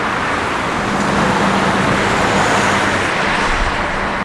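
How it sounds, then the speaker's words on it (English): Inside a bus riding through the Cancun hotel zone, a steady engine rumble and road noise run continuously, with passing traffic in the background, until the sound cuts off abruptly at the end. "I started heading back down the strip on the bus"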